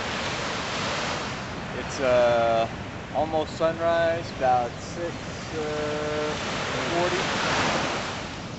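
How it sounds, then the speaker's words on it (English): Pacific Ocean surf in Hawaii at sunrise rolls as a steady broadband wash, with someone speaking over it. "we are looking at the Pacific Ocean."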